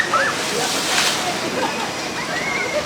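Water surges and sloshes as a boat on a small children's log flume ride at Terra Mitica theme park in Benidorm hits the bottom of its drop, a broad rushing splash that swells and then settles.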